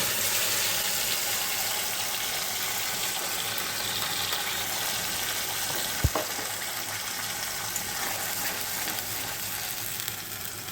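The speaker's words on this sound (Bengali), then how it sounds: "এই তেলের মধ্যে আমি এখন গ্রেট করে রাখা পেঁয়াজ, টমেটো, কাঁচা লঙ্কা সব একসাথে করা ছিল, এটা আমি তেলে দিয়ে দিচ্ছি।" Grated onion, tomato and green chilli frying in hot oil, a steady, bright sizzle running throughout with one brief sharp knock midway, close and unbroken by talk.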